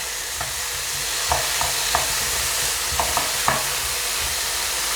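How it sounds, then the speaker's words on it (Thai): Bacon and onion stir-fry in a pan, giving a continuous bright sizzle with a handful of soft scraping stir strokes and clicks, close up and without talk. "ผัดพอเบคอนกับหอมสุกก็ใช้ได้จ้ะ"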